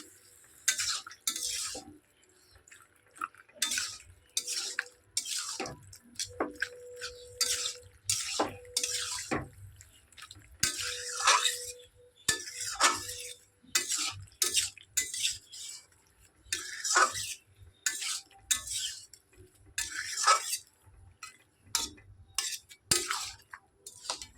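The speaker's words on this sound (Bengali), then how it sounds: "ভালো করে নাড়িয়ে চাড়িয়ে একটু জাল উঠিয়ে" Boiled mixed vegetables stirred in a pan, heard as bursts of spoon scraping and clinking against the pan separated by short quiet gaps, close by and with no voices.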